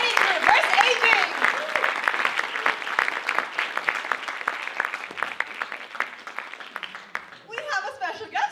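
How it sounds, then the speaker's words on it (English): An audience at a live cinema show for a science film hackathon in Lausanne breaks into sustained applause, brisk dense clapping that tapers off near the end as voices and talk come in. "Another round of applause for Team Yodi."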